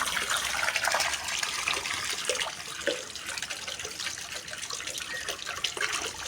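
Heavy rain pours and splashes close by in a steady, dense wash of water while a child bathes outdoors in it, with no voices.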